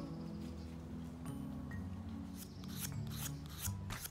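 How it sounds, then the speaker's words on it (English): Hand-carved wooden spoon being sanded, a quiet rasping scrub with several short brisk strokes toward the end over a faint low hum. "Now that it's all sanded smooth"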